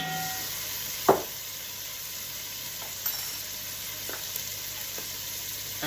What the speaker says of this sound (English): lardons have been cooking for a bit